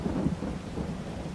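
Rain and a low rolling rumble of thunder from a farming simulation game fill the moment, heavy and continuous, with no talking.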